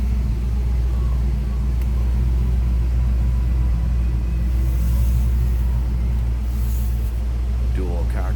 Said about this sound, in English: Let's go ahead and fire this one up. See how that 5-liter sounds.